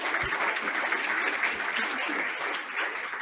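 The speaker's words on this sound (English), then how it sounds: "Can we get a little round of applause for our partners here?" A small conference audience gives a round of applause for program partners, a steady dense patter of many hands clapping at moderate loudness for about three seconds.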